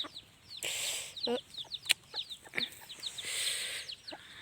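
Chickens and a rooster on a rural farm cluck in short, irregular bursts, several birds close by with sharp staccato calls and a brief squawk overlapping, no talking.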